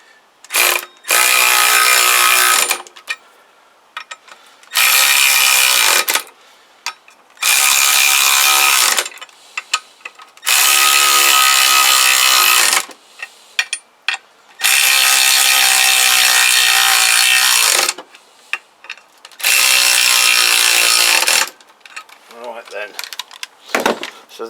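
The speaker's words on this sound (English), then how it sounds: "So this torque wrench is set at 35. Just go around and see how that feels." A torque wrench tightening the rear wheel bolts on a Kawasaki GPZ500S, repeated loud ratcheting runs of a few seconds each, separated by short pauses.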